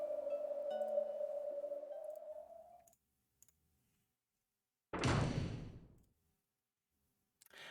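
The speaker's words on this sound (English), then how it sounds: "At that moment, there was a quiet sound of a door closing." In the Umineko video game, a door closes quietly, sounding as a single soft, short thud with a brief rush after a sustained tone fades into silence.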